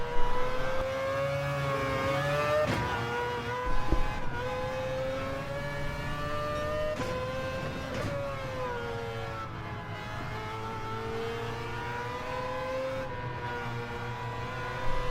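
A Mazda Vision race car in a racing video game at Dragon Trail Gardens holds a sustained engine whine that climbs and dips with gear changes and throttle, up close and steady, with no talking.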